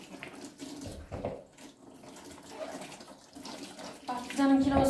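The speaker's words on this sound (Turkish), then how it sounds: "kabuklarını yıkayalım." Tap water runs steadily into a kitchen sink as vegetable peels are washed, a continuous splashing that swells near the end, with someone talking over it.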